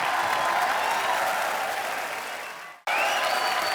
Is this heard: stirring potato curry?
no